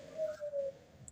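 A single soft low coo from a pigeon in a cage, quiet and close, with faint background hiss and a brief high chirp near the end.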